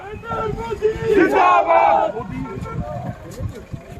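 A crowd of BJP party workers shouts and cheers close to a prime ministerial motorcade stalled on a road, a loud, continuous roar of many voices with vehicle noise underneath.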